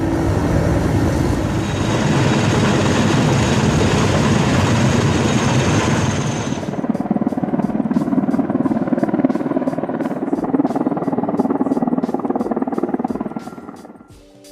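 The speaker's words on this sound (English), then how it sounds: "the helicopter must fly and place a part of the tower in the right place" A steady mechanical roar gives way to a rapid, rhythmic chopping of helicopter rotor blades, the helicopter placing a tower section, continuing loudly, then fading away at the end.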